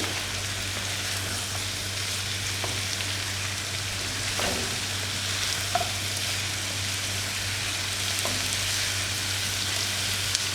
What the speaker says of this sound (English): and you will definitely hear the sizzle